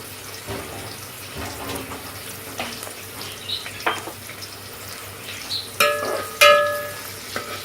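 Onions fry in a pan for pea pulao and give off a soft, low sizzle while a spoon stirs and taps against the metal now and then, with a few sharper scrapes near the end.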